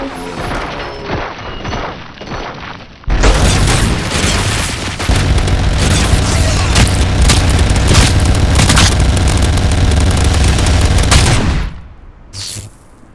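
Heavy gunfire and booming explosions erupt in a RoboCop: Rogue City firefight, a dense continuous barrage of shots and blasts that runs for about eight seconds before cutting off, following quieter scattered shots.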